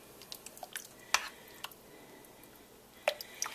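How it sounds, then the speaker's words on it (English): Ground beef for chili being stirred in a slow cooker, soft wet squishes and a few sharp clicks of a utensil against the pot, scattered and close, with no talk. "Stir that around a little bit."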